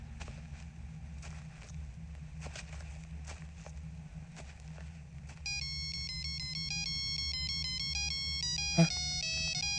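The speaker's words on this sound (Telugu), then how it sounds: "Ring tone sir. Ring tone." A mobile phone ringtone plays a melodic film song, a bright tinkly tune that starts suddenly partway through and rings steadily over a low background hum, with a brief bump near the end.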